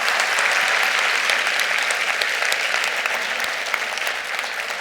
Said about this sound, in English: Can we please give our doctors a huge round of applause?